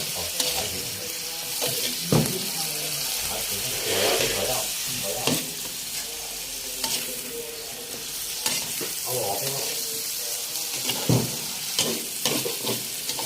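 Cauliflower stir-fries with seasoning sauce in a hot pan, giving a loud, continuous sizzle with repeated scraping and clanking as a spatula tosses the vegetables.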